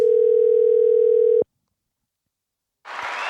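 A steady telephone dial tone on a call being placed, holding for over a second and then cutting off, followed after a silence by noisy sound.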